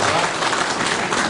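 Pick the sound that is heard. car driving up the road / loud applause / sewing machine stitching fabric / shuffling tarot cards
loud applause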